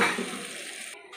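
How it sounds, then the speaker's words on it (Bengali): Boiled tarka dal is tipped into a pan of fried spices for an egg tarka, giving one brief wet pour and sizzle that fades within about a second. "এবার আমি সিদ্ধ করে রাখা তড়কা ডালটা দিয়ে দিলাম।"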